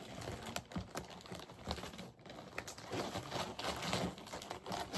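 A tough plastic package is torn open up close, with rapid crinkling, ripping and tapping bursts in an irregular rhythm and no talking.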